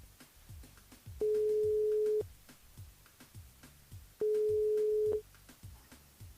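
Ringback tone of an outgoing telephone call placed during a live radio phone-in, two long steady beeps spaced a few seconds apart over faint background line noise, with no voices.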